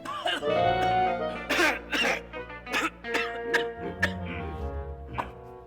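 Someone coughs and clears their throat repeatedly in short bursts, close by, with strained vocal sounds between.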